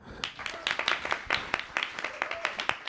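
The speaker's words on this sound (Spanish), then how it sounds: "Bueno, un aplauso" Scattered applause from the audience at a literary book presentation, individual claps standing out in an uneven, moderately close patter that rises and falls without a steady beat.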